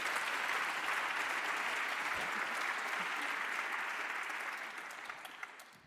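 An audience at a Lions Day gathering at the United Nations in Vienna applauds steadily in a large hall, a broad even wash of clapping that holds for several seconds and then slowly fades out.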